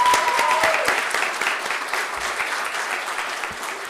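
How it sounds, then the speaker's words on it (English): A round of applause from the audience at a high school district board meeting, steady broadband clapping that fades slightly over about four seconds, with no talk. "can we get a round of applause for Ms. Barrios for helping?"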